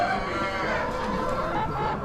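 Hens at an Amish animal auction cluck and chatter together in a steady, close barnyard murmur, with a brief crow-like call rising through the short burst of fowl noise.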